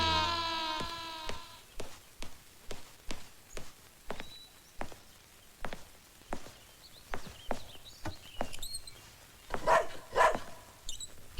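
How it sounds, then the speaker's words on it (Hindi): A dog barks inside a house, a couple of short barks near the end following a long run of steady, evenly spaced taps like footsteps. "क्यों भौंक रहा है?"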